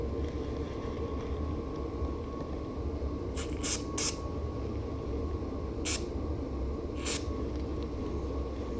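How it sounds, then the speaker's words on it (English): Aerosol brake cleaner spraying metal parts during a restoration, heard as several short hissing blasts, three quick ones close together and then two more spaced apart, over a low steady background hum. "A quick blast with brake cleaner just to make sure they're completely clean."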